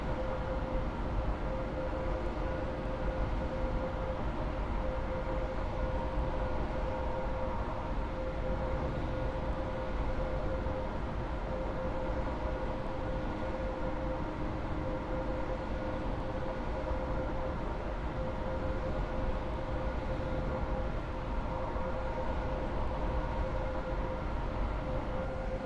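A train rolls along in the Roblox game Stepford County Railway, giving a continuous, even rumble with a steady tonal hum and no break for the whole stretch.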